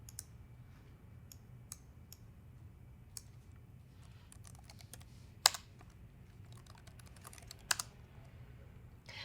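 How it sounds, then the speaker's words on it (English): A hostname is typed on a computer keyboard in short, irregular bursts of light key clicks, with a couple of sharper louder taps standing out against a quiet background. "All you need to do is type in the hostname or IP address of the computer you want to connect to."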